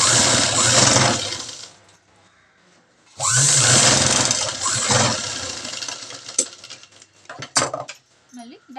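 A sewing machine stitching a chudi pant runs in two loud close bursts of fast, steady whirring, separated by a quiet pause, then gives way to scattered clicks and handling knocks.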